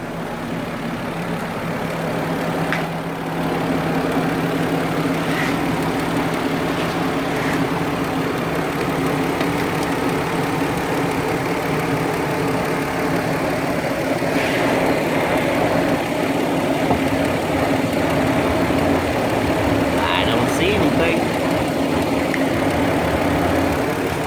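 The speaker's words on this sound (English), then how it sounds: "the car sounds like a tractor engine" A car's engine idles steadily for a long stretch with a rough, low, tractor-like rumble, close by and unbroken, with no talking over it.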